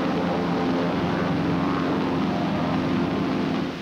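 A formation of propeller-driven military planes flies overhead, a steady, loud, droning engine roar that holds evenly throughout before easing slightly at the very end.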